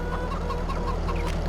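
A coop of 800 chickens in Farming Simulator 22 clucks in a continuous dense flock chorus, close and steady over a low hum.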